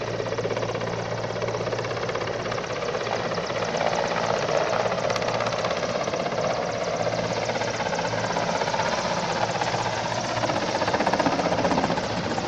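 A helicopter with engine trouble, losing lift as it spins toward a rough landing, gives a steady, moderately loud rotor and engine drone that runs unbroken throughout.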